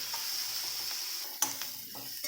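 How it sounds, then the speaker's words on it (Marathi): Chopped onion frying in a pan with a pinch of salt, a steady close sizzle broken by a few sharp stirring scrapes near the end. "कांदा आपला बघा कसा भाजत आला आहे"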